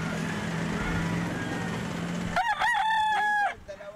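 A rooster at a poultry seller's in Bocaue, Bulacan crows once, loud and close, over steady outdoor background noise that cuts out as the call begins.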